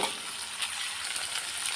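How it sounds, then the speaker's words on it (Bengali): Chicken pieces marinated in yogurt, turmeric and salt sizzle steadily in hot oil with lightly fried onions, a continuous close crackle with no pauses or voices. "এখন আমি এই যে ভুনাটা দিয়ে দিলাম দিয়ে ভেজে নেবো"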